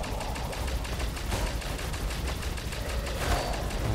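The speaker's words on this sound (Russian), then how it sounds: "Стрельба беспонтовая." Rapid gunfire in the video game Unruly Heroes, a fast stuttering burst of shots repeating steadily over a few seconds amid game sound effects.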